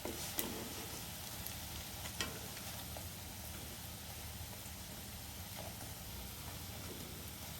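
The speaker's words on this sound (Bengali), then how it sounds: "বেশি কড়া করে ভেজে নিলে ঝোলে ভালো হয় না" Lentil fritters (dal bora) frying in hot oil for a Bengali curry, a steady close sizzle and crackle running throughout with a few brief clinks near the start.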